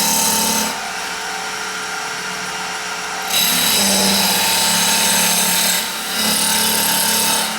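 A wood lathe spins an ash maple bowl while a scraper cuts, giving a steady whirring hum with rasping cutting noise that swells and eases in long passes.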